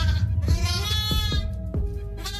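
A sheep bleats close by, a wavering nasal cry repeated a few times over steady low background rumble.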